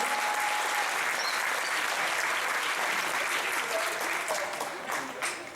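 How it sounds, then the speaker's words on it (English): A crowd at the 2015 Hot Wheels Convention in Los Angeles applauds steadily, dense clapping sustained throughout and tapering slightly at the end. "Let's give Mark and Jennifer a big round of applause for everything they've done this week."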